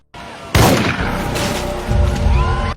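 A gunshot in a film lands as a sudden loud boom with a sharp attack, followed by a dense, rumbling tail of dramatic sound and score that stays loud for over two seconds.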